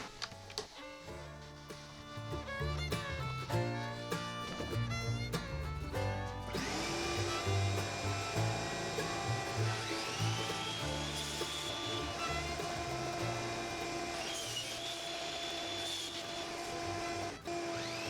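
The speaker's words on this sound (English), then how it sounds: "I break out the crosscut sled and cut all the pieces to width." A table saw with a crosscut sled cutting wood pieces to width for a walnut-edged doll house, a steady loud whine holding for several seconds after a quieter start with other workshop noise.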